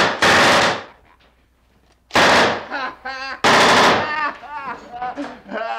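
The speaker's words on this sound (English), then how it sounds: "now we are actually going to shoot a gun." A real gun fires at a shooting range: very loud, close shots come in bursts with rapid repeated reports and ringing echoes, separated by a quiet gap.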